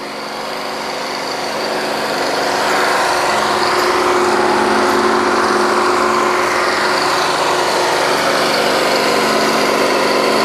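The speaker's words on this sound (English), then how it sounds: "There's one of the mud pumps there." A mud pump on a kelly drilling rig runs with a loud, steady mechanical drone that swells slightly at the start and then holds constant.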